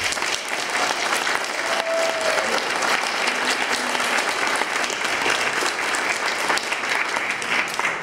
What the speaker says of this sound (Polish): wszystkim wam należą się ogromne brawa